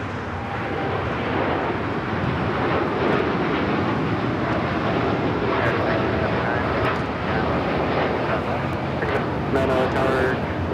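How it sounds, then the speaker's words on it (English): A Boeing 787 Dreamliner jet rolls down runway 25 right at Los Angeles International Airport, a steady loud engine roar that holds at constant strength from a moderate distance, without a break. "the Dreamliner now rolling down 25 right"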